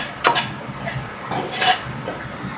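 Fennel seeds being stirred in a cooking pan, a few brief scraping and clinking strokes of a utensil against the metal, close and moderately loud, with quiet gaps between them and no talking.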